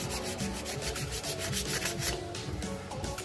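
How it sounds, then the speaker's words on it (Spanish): Sandpaper rubbed by hand across the glazed lining of a scooter drum brake shoe on a Kymco Like with vibration on pull-away, a close, steady rasping scrape in quick back-and-forth strokes with no talking. "En estos ferodos agarran una lija"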